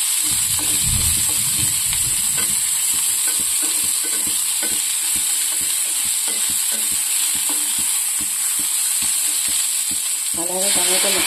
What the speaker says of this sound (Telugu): ఈ వేగుతున్న వాటిలో కొంచెం 2 మినిట్స్ అలా వేగనిచ్చండి.